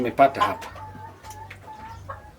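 Young chickens brought in at two weeks old cluck softly in a village poultry house, the clucks repeating amid a faint steady background hum.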